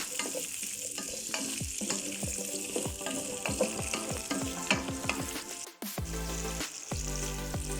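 Okra (bamia) frying in a pan gives off a loud, steady sizzle, with repeated stirring scrapes and clatters throughout and a brief drop just before a change in the frying sound near the end.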